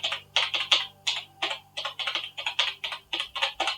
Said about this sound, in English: If you're a heavy typer, then obviously, hopefully the mic can pick that up a little bit.